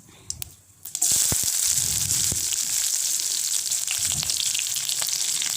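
Chopped small onions (shallots) drop into hot oil with spluttered mustard seeds and start sautéing: a sudden loud, close, continuous sizzle after a second of quieter popping, with occasional stirring clinks.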